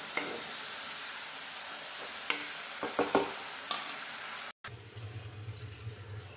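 Tomatoes cooking in a pan with a little water give a close, steady hiss and bubbling sizzle, with a few stirring knocks, then a brief cut and a lower, quieter simmer.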